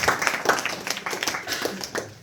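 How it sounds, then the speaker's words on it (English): A small group claps for a participant at a Bhagavad Gita study session, a short patter of scattered hand claps with a few louder taps, close and moderately loud for a couple of seconds. "please give a round of applause"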